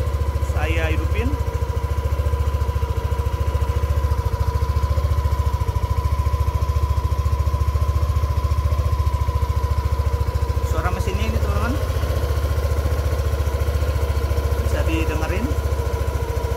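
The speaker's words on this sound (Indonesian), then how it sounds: "Ini suara mesinnya ketika 3 minggu nggak saya hidupin" A Yamaha Aerox 155 scooter engine, unstarted for three weeks and with a weak battery, idles steadily close by, a low continuous rumble with a faint whine, while a voice speaks briefly at the start and again near the end.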